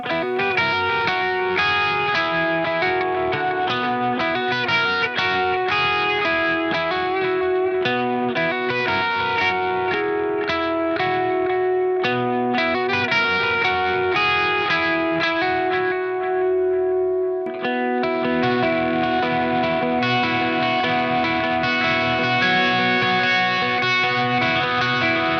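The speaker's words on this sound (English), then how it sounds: "number 1, which in my list is delay" Electric guitar played through a delay effect in a worship style, sustained chords and notes with echoing repeats blending into a continuous wash, loud and steady with a brief dip partway through.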